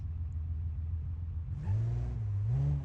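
A Dodge Challenger SXT with all-wheel drive in the driving game BeamNG.drive idles with a low rumble, then revs up. Its engine note climbs and holds, loud and close, with no talking.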